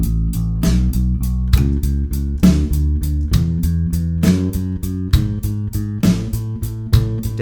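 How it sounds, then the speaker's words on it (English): Bass guitar plucked with three fingers, each note repeated three times, running a major scale over a drum track, with even, consistent picked notes and regular kick-like thumps, loud and close without talk. "So with the drum track, it's going to sound like this."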